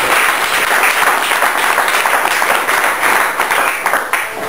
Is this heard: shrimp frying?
no